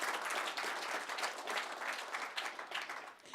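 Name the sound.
applause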